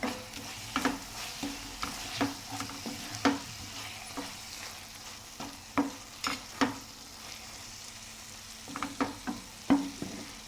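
Curry simmering in a pan, heard as soft irregular clinks and scrapes of stirring over a low bubbling sizzle, moderately close and without voices.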